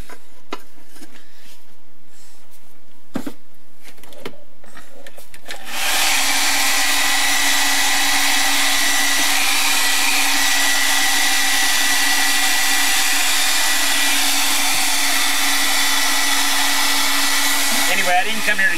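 A hair dryer runs steadily for about thirteen seconds, drying wet paint on a page of an art journal. It starts abruptly after a few seconds of quiet handling noises and blows loud and close until it stops near the end.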